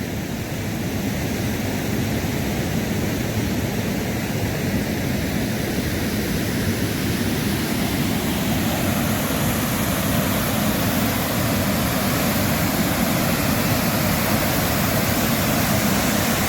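Steady, loud roar of the waterfall on the Kilkila river near Panna, a dense broadband rush of falling water that holds constant throughout without pause, with no voices rising above it.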